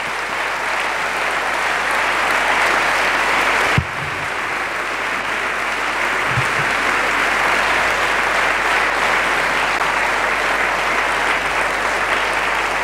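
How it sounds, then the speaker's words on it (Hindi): Loud, sustained applause from a church congregation fills the whole stretch, dense and steady, with a brief bump partway through and no talking over it. "आओ हम खुदा की शुक्रगुजारी जोरदार तालियां बजाकर करें।"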